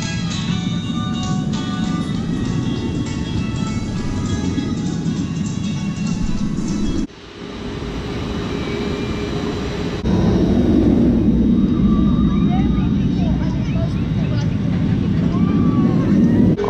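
Thunderbird, a launched roller coaster at Holiday World, roars out of the station early in the season. A loud, steady rush builds, drops briefly to a quieter hum, then surges back louder and stays heavy to the end.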